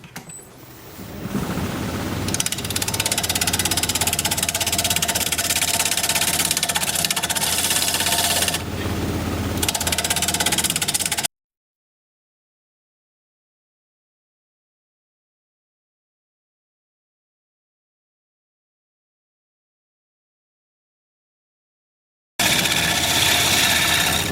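A wood lathe turns a live edge rectangular bowl at 1,000 RPM with a 5/8 inch bowl gouge, giving a loud continuous whirring hum, cut off by a long silent gap before resuming.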